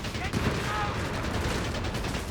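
Video game battle gunfire from Pioneer infantry in Company of Heroes 3, a dense continuous crackle of rifle and machine-gun shots under steady battle noise, with commentary faintly present.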